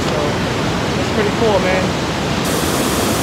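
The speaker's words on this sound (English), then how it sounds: "This is at the top of the waterfall" Waterfall at Amnicon Falls State Park in Wisconsin, heard from the top of the falls as a steady, loud broadband roar that fills the whole moment, with someone speaking briefly over it.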